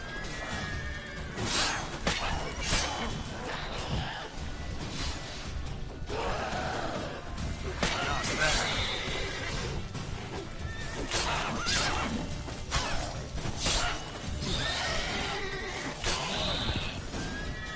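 Horse in The Witcher 3: Wild Hunt neighing and whinnying repeatedly over clip-clopping hooves and snorting breaths, loud and close throughout with a busy game backdrop.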